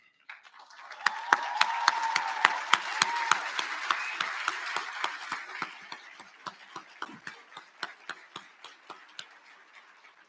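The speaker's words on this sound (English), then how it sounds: "let's give them a big round of applause" A graduation audience applauds its teachers with a swell of crowd clapping mixed with sharp, evenly spaced louder claps, fading toward the end while the rhythmic clapping continues.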